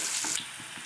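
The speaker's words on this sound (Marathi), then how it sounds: "कांदा व्यवस्थित असा परतून घेते" Chopped onion sautéing in a pan for a cauliflower stalk vegetable dish, a steady close hiss of frying with faint stirring, heard alone.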